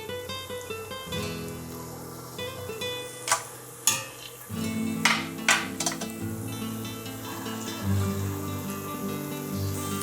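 Churros fry in hot oil with a soft, steady sizzle, interrupted by a few sharp clinks of kitchen utensils and pans.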